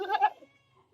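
A mother goat on a farm gives one short, close bleat lasting under half a second, followed by near silence.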